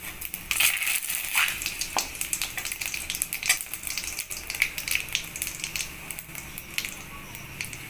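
Cumin seeds and bay leaf hitting hot oil give a steady crackling sizzle with sharp popping spits, close and fairly even throughout.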